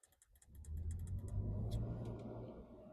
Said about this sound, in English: That's the blower motor, I think, failing.